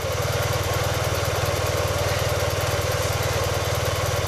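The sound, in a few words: motorcycle engine idling while warming up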